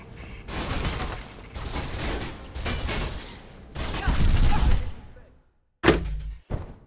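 Rapid gunfire in the video game Mirror's Edge: four loud, dense bursts of shots in close succession, a short silence, then two sharp final blasts.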